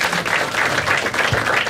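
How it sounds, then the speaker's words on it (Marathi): A stand-up comedy audience claps in a steady wash of applause, dense and close throughout with no pauses. "एकदा कपिलसाठी टाळ्या वाजवा सगळ्यांनी"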